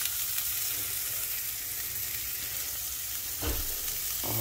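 String beans fry in a pan with a steady, bright sizzle that holds throughout, broken by a couple of brief stirring knocks.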